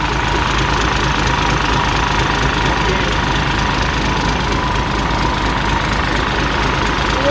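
A Hino V8 truck engine runs loud and close, a dense, continuous low rumble that holds steady throughout with no clear breaks.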